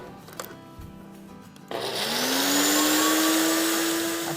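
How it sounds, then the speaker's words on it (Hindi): An electric grinder pulverising a spice mix starts up partway through with a sudden loud whirring roar that holds steady and close, its pitch rising slightly as the motor spins up, after a few quiet clicks. "जो मसाले इसमें डाले इसे पीस लेते हैं।"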